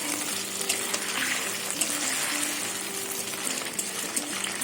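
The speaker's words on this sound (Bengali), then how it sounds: "পনিরটা ভাজা হয়ে গেছে," Cubes of paneer fry in hot oil in a pan, giving a continuous close sizzle with a bubbling, watery texture that stays steady from start to finish.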